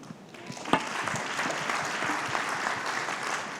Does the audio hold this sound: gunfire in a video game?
no